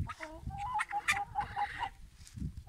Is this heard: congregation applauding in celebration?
no